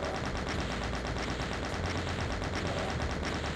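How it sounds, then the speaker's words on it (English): Rapid, continuous chaingun fire in the video game Doom, aimed at a Cyberdemon, a loud, even stream of shots with no pause and no voices. "I don't know if I ever chain gun a cyber demon."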